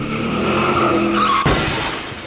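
A car skids with a loud tire squeal and then crashes into a person, a sudden hard impact with a shattering burst near the end, close and alone with no talk.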